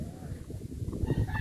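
Chickens cluck and call nearby in a backyard vegetable garden, with several short bursts over outdoor background noise while a person talks.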